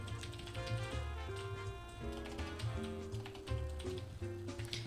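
Continuous keyboard typing with rapid clicky keystrokes over steady background music, no talking.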